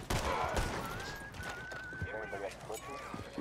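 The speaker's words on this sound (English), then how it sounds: "Oh, there's a lot of shooting going on." Many gunshots go off in a town, heard as scattered sharp cracks in rapid bursts mixed with hoofbeats and horse whinnies, under loud, excited talk.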